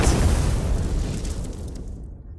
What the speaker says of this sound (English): His kit is all about spreading bombs and chaining explosions to maximize damage.